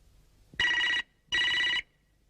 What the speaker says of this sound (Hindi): भाई आपका फोन।